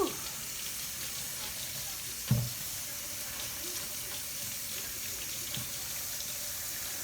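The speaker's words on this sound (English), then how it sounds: "I gotta wash these tomatoes off. And wash this lettuce." Tap water runs steadily into a kitchen sink while tomatoes and lettuce are washed under it, a soft constant hiss with a couple of faint knocks against the basin.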